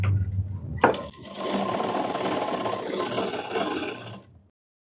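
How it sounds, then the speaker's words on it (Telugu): A sewing machine runs steadily while stitching a small tuck on a cut-work blouse front, starting after a brief pause and humming continuously with a mechanical whir before stopping abruptly. "ఈ లోతు తీసిన వైపున చిన్న టక్కుని ఇలా ఇచ్చుకుని ఫస్ట్ ఇక్కడ స్టిచ్ అయితే వేసేసుకుందాం"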